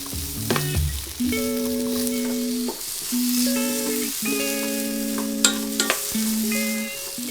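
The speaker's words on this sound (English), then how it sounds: "We want to fry them until they're slightly softened." Onions frying in a pan for a gyudon beef bowl, a steady close sizzle with clinks and scrapes of stirring across it, and no one talking.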